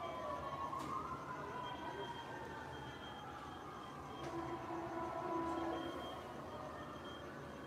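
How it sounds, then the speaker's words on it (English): Emergency vehicle sirens wail faintly in the distance, their rising and falling tones drifting over a low background rumble, steady and far off throughout. "You hear the sirens?"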